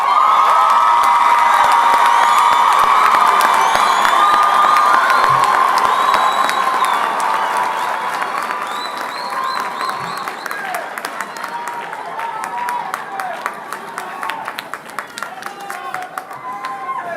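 Loud applause, cheering and whoops from a large audience at a College of Medicine graduation ceremony for new medical graduates, dense and sustained, tapering slightly to steady clapping with scattered shouts over seventeen seconds.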